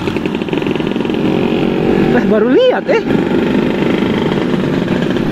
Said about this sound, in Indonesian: ini kok Vespa tapi knalpotnya silincer 2 tak ya